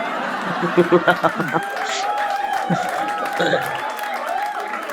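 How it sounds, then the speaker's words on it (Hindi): A stand-up comedy audience breaks into a brief burst of clapping mixed with laughter and crowd chatter. A performer's voice then carries on over the fading crowd noise. "आप तालियां पीट रहे हो"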